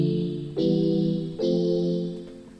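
Xpand synth plugin in FL Studio playing a sustained, bright, harmonically rich tone with a fresh attack at about 0.6 and 1.4 seconds, each note swelling and then slowly fading, with no talking.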